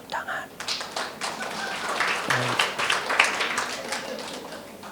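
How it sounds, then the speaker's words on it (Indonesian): A church congregation at a Woman of Impact service claps in response to the preacher, scattered uneven claps swelling into a brief round, moderately faint and mixed with some voices. "Tepuk tangan."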